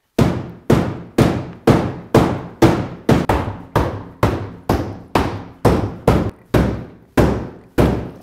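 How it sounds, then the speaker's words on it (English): Heavy old iron hammer pounding sheet-metal car body near the transmission tunnel of a 5.0 Mustang, about fifteen loud, close, evenly spaced blows with short ringing decay, no talking. "I'm gonna give it a couple of kisses with this the old iron hammer"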